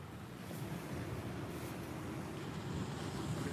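Sea waves wash up a beach at Walcott as high tide nears, a steady, soft, broad surf roar mixed with light wind on the microphone, with no voices.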